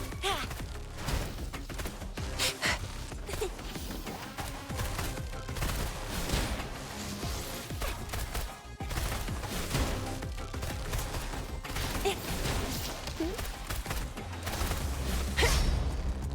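Rapid gunfire and combat effects from the video game Wuthering Waves, loud and continuous bursts layered over game music and whooshes, with a player talking over the action.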